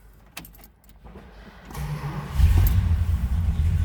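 A 1966 Plymouth Satellite convertible cranks over and its engine catches, settling into a loud, steady low idle rumble after a few quiet clicks.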